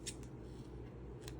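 Scissors make a straight cut, a couple of quiet snips over a low steady background hum.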